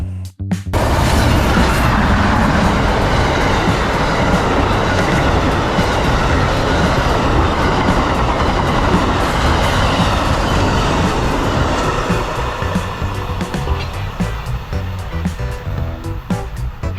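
A passenger train led by a Genesis locomotive with a Siemens unit trailing rolls past close and loud in Florida, a continuous rumbling roar with rhythmic clickety-clack of wheels that eases slightly near the end.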